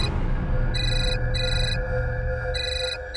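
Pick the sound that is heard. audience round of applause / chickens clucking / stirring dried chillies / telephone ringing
telephone ringing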